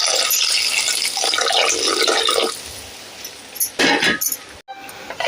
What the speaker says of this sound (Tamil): தேவையான அளவுக்கு தண்ணி ஊற்றி நல்லா புளியெலாம் கரைச்சி ஊற்றியாச்சு